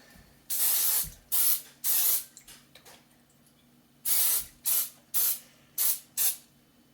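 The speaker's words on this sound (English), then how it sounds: "I'm just using baking cooking spray." Short bursts of cooking spray hissing onto a bread pan, two longer sprays then a pause, followed by five quick spurts in a row, close and fairly loud.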